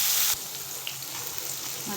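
Mustard seeds, cumin and onion fry in hot oil in a steady, continuous sizzle that holds at an even level throughout, with a louder burst at the very start.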